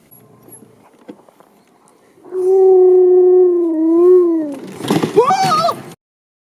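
Sled dogs at a dogsledding outing let out a long, loud, wavering howl for about two seconds, followed by a burst of excited overlapping barks and yelps close by.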